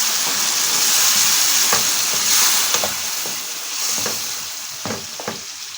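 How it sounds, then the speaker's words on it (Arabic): Tomato juice hits peppers frying in a little oil, producing a loud, steady hissing sizzle with scattered crackles and pops close by. "هنزل عليه بعصير الطماطم"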